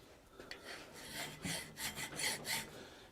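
A hand file rasps across a forged iron tenon for a simple latch in several steady back-and-forth strokes, close and fairly quiet, growing denser and more regular toward the end.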